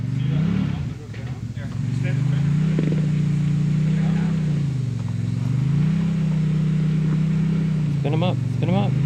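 A Can-Am UTV crawls a rocky trail with its engine droning and rising and falling in repeated revs, close and loud, while people talk and cheer over it.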